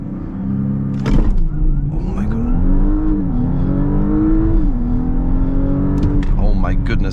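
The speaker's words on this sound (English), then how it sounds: "the V6 with 367 horsepower, just 367, I guess, yeah, just continues to pull." A 2025 Audi S5 with a 367 hp V6 accelerates hard at high speed, its loud, steady engine drone climbing in pitch and dipping briefly at gear changes before pulling on continuously.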